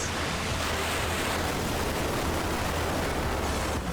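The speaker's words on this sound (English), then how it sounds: "And that's how the water comes out." Water from a Final Fantasy summon attack rushes out in a dense, steady wash of loud broadband noise, surging evenly for a few seconds with no voices.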